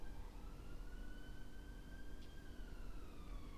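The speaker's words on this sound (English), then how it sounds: "really hope you don't hear those ambulance sounds." An ambulance siren wails faintly from a distance along a busy main street, in a long steady tone over a constant rumble of traffic.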